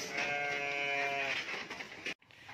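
A Garut sheep on a breeding farm gives one long, close bleat with a buzzing, harmonic voice, followed by a short pause and quieter background noise.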